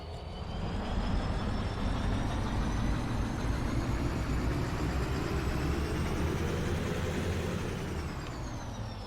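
An EMD diesel locomotive engine in the video game Derail Valley, a steady loud rumbling drone with a slowly rising whine, running continuously and close throughout.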